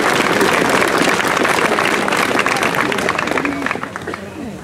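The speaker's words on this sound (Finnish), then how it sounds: "Sydämellinen kiitos ja aplodit kaikille läsnä oleville." Applause from an audience at the 2014 Uuno Kailas capping ceremony in Heinola: broad, dense clapping that stays loud, then thins and fades toward the end as voices murmur underneath.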